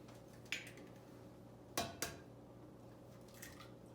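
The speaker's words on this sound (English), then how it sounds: "Crack your eggs in here." Eggs are cracked against a bowl while crepe batter is being made. Three short, sharp taps stand out in a quiet room: one early, then a close pair, with no talking.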